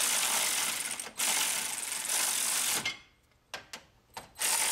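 A socket ratchet clicks steadily while snugging a bolt on a Toyota hood switch, a long run of close ratcheting that breaks off, then a few short separate bursts after the direction is flipped.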